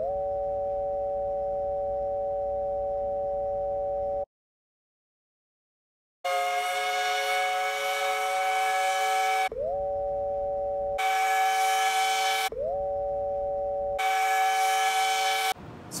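A steady electronic whistle tone with bright harmonics, synthesized with an oscillator to imitate the Georgia Tech whistle, sounding in several bursts separated by silences, each starting with a brief upward pitch slide.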